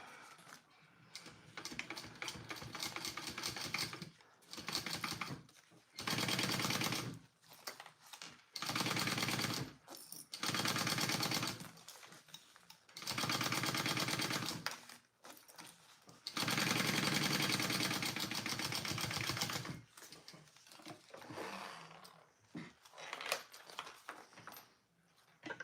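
Home sewing machine basting fabric pieces together for a pouch project, running in repeated bursts of a few seconds with short pauses between, steady and close.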